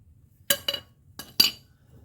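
A large adjustable wrench is handled against metal farm equipment, giving four sharp, close metallic clinks in two quick pairs, separated by quiet gaps.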